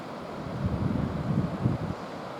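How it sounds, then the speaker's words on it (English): Sea waves wash onto an eroding British coastline, a low rumbling surge that swells and fades, mixed with wind buffeting the microphone and no voices. "Love the sound of the sea in the world."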